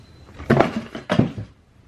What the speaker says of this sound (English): And he just knocked over some stuff.